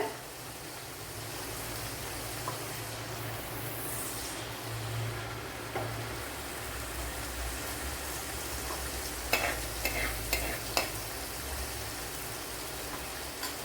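Fenugreek seeds in reused fish-frying oil, giving a soft, steady sizzle that runs throughout, with a cluster of sharper crackles and clinks near the end.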